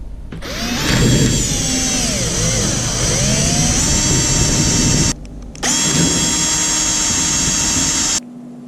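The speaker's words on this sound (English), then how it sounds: "next I have to screw down the roof sheet" A power drill drives screws into the roof sheet of a homemade quail hutch, its loud motor whining in long sustained runs, rising and falling in pitch, with a brief pause before a second extended burst that cuts off abruptly.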